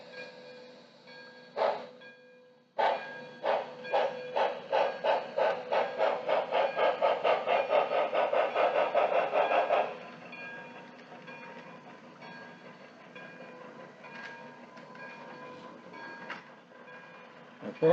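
An On30 2-6-0 model steam locomotive fitted with a DCC sound decoder starts moving on its track, a rhythmic chuffing that quickens steadily, then drops to a softer running hum, close and fairly quiet.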